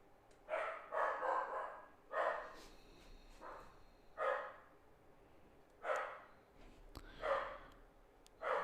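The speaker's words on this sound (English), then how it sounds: "Dogs in there barking at something." Dogs barking from somewhere nearby in a home, a string of separate bark bursts spaced a second or two apart, moderately loud over a quiet room background.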